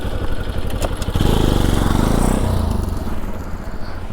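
A motorcycle engine idles, then swells into a loud, close rev as the throttle is opened during bike wheelie practice, holding for about a second before dropping back to a steady idle.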